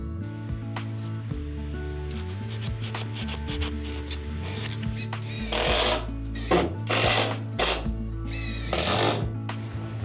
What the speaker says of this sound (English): I secure the baseboard to the floor from the groove using screws.